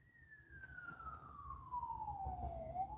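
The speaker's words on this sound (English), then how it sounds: "Oh, it's an ambulance." An ambulance siren sweeps down in pitch in one long wail, then turns upward again near the end, heard at moderate distance over low traffic rumble.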